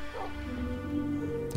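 Dogs in the video game Minecraft yip and whimper in short bursts, fairly close and steady, with game ambience running underneath.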